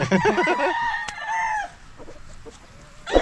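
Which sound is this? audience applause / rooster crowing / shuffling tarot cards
rooster crowing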